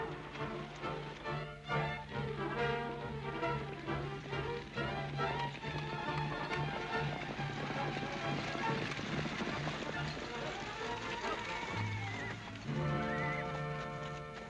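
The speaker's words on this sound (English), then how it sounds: "Sounded like a lot more horses to me than just one team." A team of horses gallops hard over open ground, hoofbeats rolling steadily under a loud, dense mix of music and action noise, with a horse whinnying partway through.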